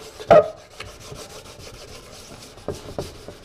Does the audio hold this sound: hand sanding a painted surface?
yes